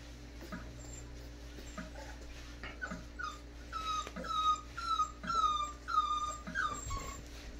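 American bully puppies whimper and yip after their first bath, a run of thin high whines and squeaks growing more frequent, close by over a low steady background hum.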